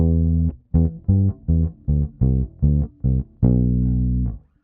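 A bass guitar plays a variation on a riff, short, evenly spaced plucked notes sliding from C back to D and ending on one long sustained note, clean and upfront with no voices.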